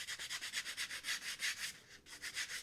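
Paper is rubbed briskly back and forth over a varnished painting, a steady run of close, even, scratchy strokes about five per second with a brief pause near the end, alone without speech.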